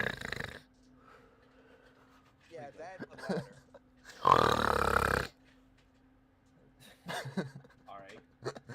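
A person imitates loud snoring at a live tabletop role-playing session, one long rasping burst in the middle between stretches of casual talk.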